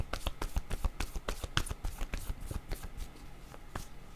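Tarot-style cards being shuffled and drawn for a card reading, a close, steady run of rapid riffling and flicking taps lasting a few seconds, with no talking.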